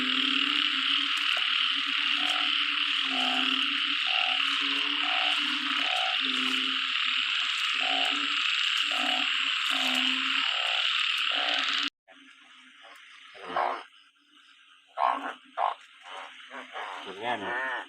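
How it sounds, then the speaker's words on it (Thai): Frogs croak loudly in a dense, rhythmic chorus during heavy rain at night, a steady pulsing drone with high insect-like buzzing; after about twelve seconds it cuts to a quieter scene with scattered nearer croaks and rustling. "นั่นได้ยินเสียงกบระบาดนี่"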